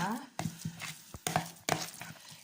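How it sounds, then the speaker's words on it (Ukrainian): A spoon stirs minced meat mixed with ground onion and two eggs in a bowl, giving soft, wet scraping strokes with a few sharper clinks against the bowl, in irregular bursts at close range. "І вимішуємо ложкою зараз"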